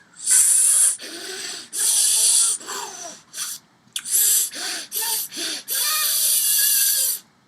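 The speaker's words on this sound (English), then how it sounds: "make a small hole with my lips and make that sucking sound" Wrong harmonica breathing demonstrated as a harsh sucking rush of air through a small hole in the lips, repeated in about eight loud, breathy bursts with short gaps between them.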